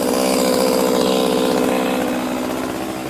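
A power tool, likely a chainsaw, trims a tree in a farmhouse garden, running as a loud, steady buzzing drone close by that eases off slightly toward the end, with no talking.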